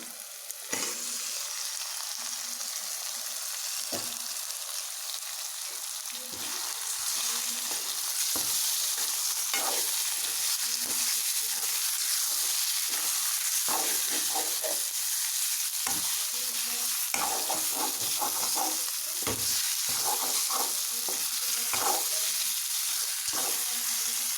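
Chicken sizzles steadily in a pan for biryani, with intermittent scraping stirs of a spoon cutting through the constant frying hiss.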